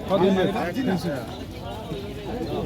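Pigeons coo at a large pigeon market in West Bengal, their soft calls mixed with loud surrounding chatter from several people nearby.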